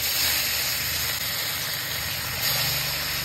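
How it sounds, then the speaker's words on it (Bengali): Fish rubbed with salt and turmeric frying in a pan gives a soft, continuous sizzle and hiss at low level over a faint steady hum. "এই যে এখন কিন্তু মাছ ভাজাভাজি শুরু হয়ে গেছে।"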